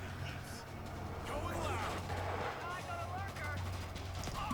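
Rapid bursts of gunfire from the video game World War Z, dense and continuous across the moment, mixed with game noise beneath a player talking over it.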